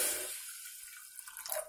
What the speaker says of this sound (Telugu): 2 గ్లాసుల వాటర్ వేసుకోండి,